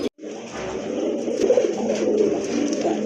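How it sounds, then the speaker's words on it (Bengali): Giribaz pigeons cooing close by, a continuous layered murmur of soft rolling coos from several birds, loud and steady with no speech. "যারা গিরিবাজ পালন করেন তারা কিন্তু এই জোড়াটা নিতে পারেন, দুইটা বেবি সহকারে।"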